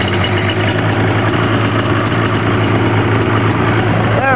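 A rebuilt TXL snowmobile engine idles close by with a loud, steady droning rumble that holds an even pitch throughout, with no break and no talking over it.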